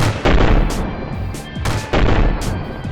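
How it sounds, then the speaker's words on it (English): A WWI tank gun fires ranging shots, heard as a series of loud, close, booming blasts over a rumbling battle din, with no talking. "After 2 ranging shots"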